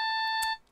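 A phone ringing in the Ace Attorney video game: a short electronic ringtone with steady pulsing beeps that stops abruptly after a moment, no talk.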